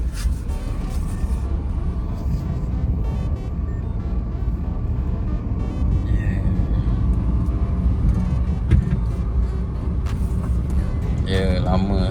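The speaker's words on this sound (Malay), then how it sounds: "Kereta ni manual, jadi payah sikit nak bawa kereta ni." Manual car engine running steadily while driving, a continuous low rumble and road noise heard from inside the cabin, with no clear gear changes standing out.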